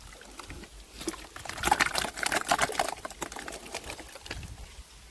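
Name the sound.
stirring cow dung slurry with water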